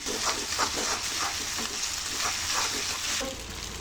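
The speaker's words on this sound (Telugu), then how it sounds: "అల్లం వెల్లుల్లి పేస్ట్ కూడా వేయించుకోవాలి" Ginger garlic paste fries with onions in a pan, giving a close, bright sizzle with a rhythmic pulse of stirring strokes running through it.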